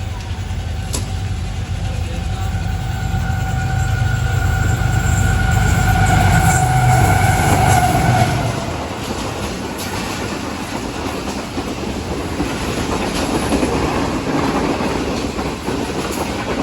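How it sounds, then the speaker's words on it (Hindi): Express passenger train 7 Up rushing through Dabheji railway station at high speed, a loud steady roar of wheels and rail with a horn-like tone, the rumble dropping away after about eight seconds as the last coaches pass. "बहुत ही ज़बरदस्त स्पीड में गुजरी है खामोशी से 7 अप"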